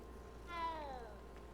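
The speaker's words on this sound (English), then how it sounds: "There's so many cats in this game." A cat in the Hogwarts Legacy video game gives a single clear, drawn-out meow at moderate volume, rising and then falling, over a faint steady hum with no talk.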